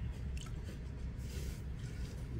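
A wet sponge squishes and drips water onto clay on a spinning pottery wheel, soft liquid squelches and trickles, faint and close.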